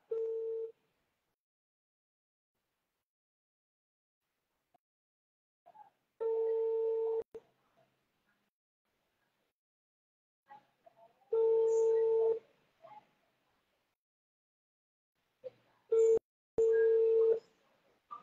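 Telephone call tones: a short beep, then three long electronic tone bursts about a second each, separated by silent gaps, on a call that goes unanswered. Quiet and clean, with no other sounds.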